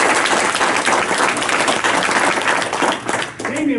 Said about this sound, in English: Round of applause for Ray.